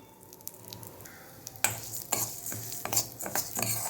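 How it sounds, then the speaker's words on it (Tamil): Moong dal being roasted in a kadai with a little oil gives a crackly frying hiss, then louder scraping stirs and light clinks against the pan. "அடுப்பில் கடாயை வச்சு கொஞ்சமாக எண்ணெய் ஊற்றிக்கணும். ஊற்றிட்டு முதல்ல பாசிப்பருப்பை வறுத்துக்கலாம்."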